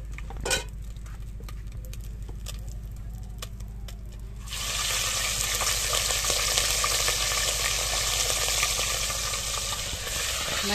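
Fish frying in a pan on a stove, a steady dense sizzle that swells louder partway through, with occasional clinks and spatters, close by and unaccompanied by talk.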